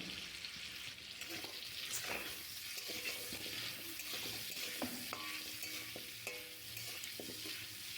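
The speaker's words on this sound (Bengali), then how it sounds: "লবণ আর হলুদ দিয়ে আলু আর গাজরটা আমি ভেজে নেব।" Potato and carrot pieces fry in oil with salt and turmeric, a steady close sizzle with scattered stirring clinks and scrapes throughout, no voices.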